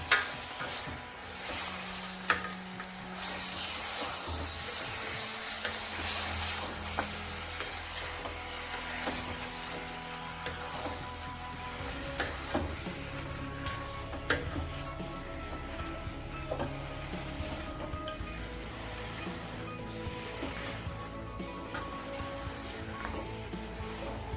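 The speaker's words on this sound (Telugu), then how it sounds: "ఒకసారి బాగా కలుపుకుందాం." Mutton curry with fenugreek leaves is stirred in a pan, giving a steady scraping, sizzling hiss with irregular spoon strokes throughout, close and moderately loud, with no talking.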